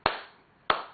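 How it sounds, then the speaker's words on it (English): Two sharp hand claps from a song recording ring out about half a second apart, crisp and close, each with a short reverberant tail and nothing else around them. "don't y'all hear the hand claps?"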